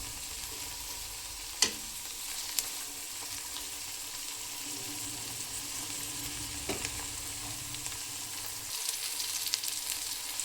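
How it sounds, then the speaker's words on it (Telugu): Coriander leaves fry in oil in a pan, giving a steady, soft sizzle throughout, with a couple of faint clicks and stirring scrapes. "అందులో కొత్తిమీర వేసుకొని ఫ్రై చేసుకోవాలి ఫ్రెండ్స్"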